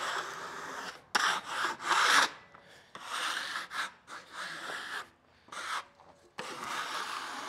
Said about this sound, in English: let's scrape this sawdust off this thing and see what it looks like